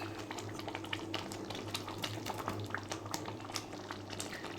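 Cashew paneer butter masala curry simmers in a pan, giving off a soft, steady stream of small bubbling pops and plops, quiet and close.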